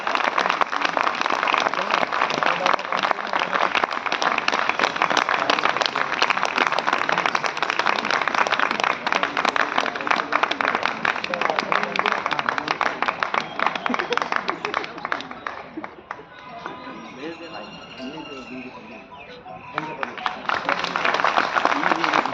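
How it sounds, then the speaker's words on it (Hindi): Sustained applause from a gathered crowd welcoming a guest at the Delhi BJP office, dense and loud for about fifteen seconds before thinning out, with voices audible. "तालियों के साथ साहब का स्वागत करें।"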